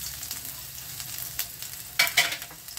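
Four cloves of grated garlic sizzle in hot mustard oil in a pan, a steady frying hiss with a couple of sharper crackles and stirring scrapes near the end, close and moderately loud with no voices.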